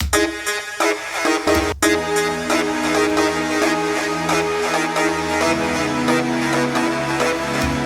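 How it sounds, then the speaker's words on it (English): A synth pad in a Logic Pro X trance track swells under dense electronic music with a rhythmic pulse, a brief dropout early on, then a full, steady texture with no voices. "And then I have a nice pad here."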